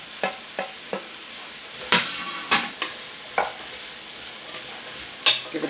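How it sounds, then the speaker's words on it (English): A spoon stirs chicken soup in a pot, giving several short scraping, sloshing strokes spaced irregularly, close and fairly quiet with a faint simmer beneath. "Give that another stir."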